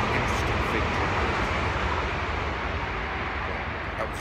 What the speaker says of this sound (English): That was the sound of a train going by.